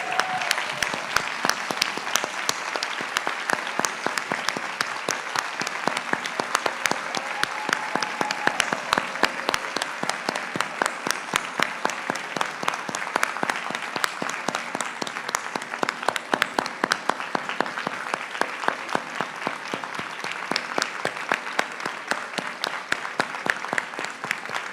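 An audience claps steadily for teachers at a writing and drawing award ceremony, dense sustained applause filling the hall for the whole stretch, with faint voices underneath.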